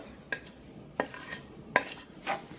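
Ragi vermicelli roasting in a pan for multigrain vegetable upma, with a few distinct scraping stirs and light clinks against the pan, quiet and sparse with soft sizzling between.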